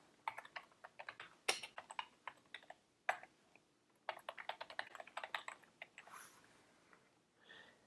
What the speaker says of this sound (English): You can put in the name of your prospect.